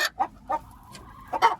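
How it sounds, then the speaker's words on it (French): A laying Brahma hen clucks in short, close bursts, a few quick clucks followed by a pause and a louder pair, with no other sound around. "La poule Brahma qui est en train de pondre."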